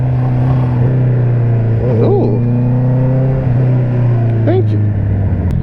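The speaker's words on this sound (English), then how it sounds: "Too much traffic for me." Steady road traffic heard from a motorcycle rider's position, a constant engine drone with cars passing and a couple of brief rising whooshes, a short spoken exclamation over it.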